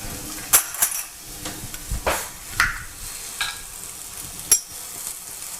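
Garlic frying in a pan for a coconut milk chicken tikka curry, a soft steady sizzle broken by several sharp utensil taps and stirring scrapes against the pan, close and without talk.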